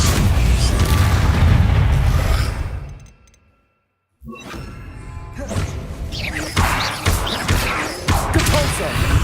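Booming spell impacts from the Depulso force spell in Hogwarts Legacy, heavy thuds and crashes amid dense combat noise, a brief near-silent gap, then more loud hits, with a voice speaking over parts.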